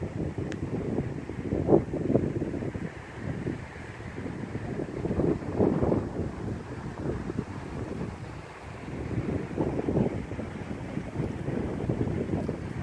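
Gusting wind buffets a boat out on a bay on a warm, windy day, a rough low rumble that surges and fades in waves, loud and close across the clip with no talking.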